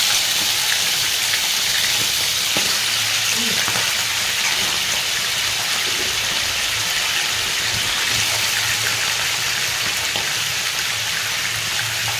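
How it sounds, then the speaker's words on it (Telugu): Chicken frying in a pan gives a loud, continuous sizzle with a dense, rain-like hiss throughout, close up and without talk. "నేను ఇవాళ చికెన్ ఫ్రై చేస్తున్నాను"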